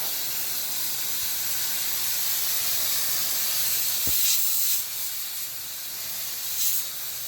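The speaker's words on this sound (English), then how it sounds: "use this steam cleaner, and it is a godsend if you live in an apartment or a condo because it's small." A small apartment steam cleaner hisses steadily as it sprays a parrot cage, a continuous broadband jet with a brief click partway through and slight surges near the end, no voices over it.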